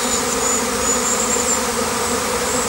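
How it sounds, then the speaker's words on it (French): A honeybee swarm settles into a Kenyan top-bar trap hive, its dense, steady buzzing humming continuously and close by, with no voices. "L'essaim est arrivé tout seul, il est en train de se poser à son aise."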